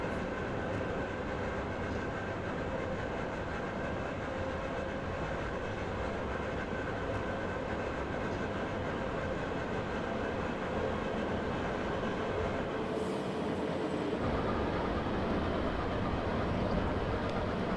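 A video-game train runs along rails on a snowy route, a continuous dense rumble and rolling rail noise held at an even level throughout, with no talk.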